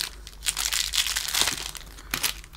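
Plastic bag packaging of a gacha squishy toy crinkles and crackles up close as it is torn open, a steady run of rustling with a few sharper crunches.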